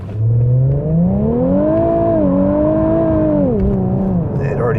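A 2018 Infiniti Q50 Red Sport's engine revs and pulls hard under acceleration, a loud rising drone that climbs, holds, then dips as it shifts, close and dominant throughout.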